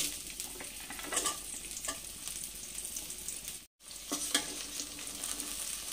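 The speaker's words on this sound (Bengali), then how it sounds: "ওই তেলের মধ্যে এবার ছুটিগুলোকে দিয়ে দিচ্ছি।" Hyacinth beans fry in hot oil with a continuous crackling sizzle and stirring scrapes, broken by one brief silent cut partway through.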